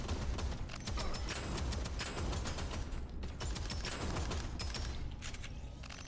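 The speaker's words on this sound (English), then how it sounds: "I guess what I'm going to do is shoot this guy in the head." Gunfire in the shooter game DeadZone Rogue, a dense, continuous burst of rapid shots and mechanical clatter at steady loudness throughout, with no talk over it.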